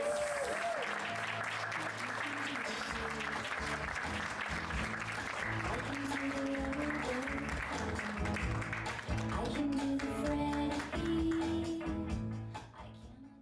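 Sustained applause from a storytelling-show audience greeting the next storyteller, dense and steady for about twelve seconds before tapering off at the end, with a voice talking over it.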